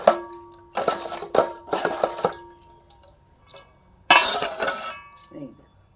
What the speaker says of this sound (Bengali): তোমাদেরকে আমি একটা বাসন ধুয়ে দেখাচ্ছি